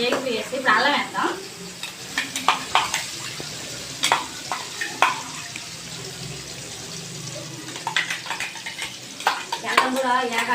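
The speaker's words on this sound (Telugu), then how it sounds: "టమాటాలు వేగిపోయేసి ఇప్పుడు అల్లం వేద్దాం." Tomatoes and ginger frying in oil for a chicken curry, a low sizzle under repeated scraping and stirring clicks, with a voice talking over it in bursts.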